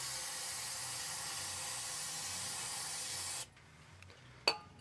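A steady, loud aerosol cleaner spray hisses for a few seconds onto the gear teeth of a Ford 7.25 rear differential, then cuts off, followed by quiet and a brief metallic click.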